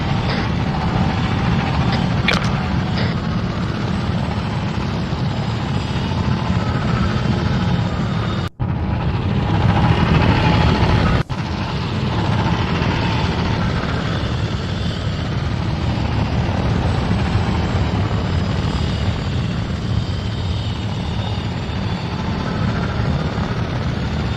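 Helicopter in a military video game flying past, a loud sustained rotor and engine roar lasting throughout, with a brief cut and a sharp thump partway through.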